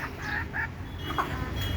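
Native deshi hens cluck softly after a heavy downpour, a few short close calls over a low outdoor background.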